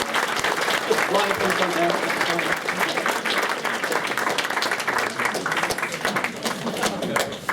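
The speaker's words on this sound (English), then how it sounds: "Please give these people a round of applause for being winners already." Audience applause for race winners at a convention closing ceremony, sustained dense clapping throughout, with a voice speaking over it.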